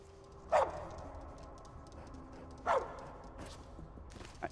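A dog character barks in a video game, two short sharp barks about two and a half seconds apart standing out over a steady background of game sound and music.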